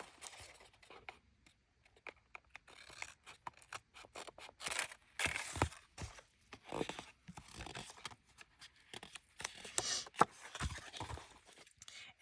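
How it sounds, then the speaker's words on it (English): Scissors trim through paper and washi tape during a mini book craft session, giving a few quiet, close snipping and crunching cuts amid soft handling rustles and brief pauses. "Grab my scissors."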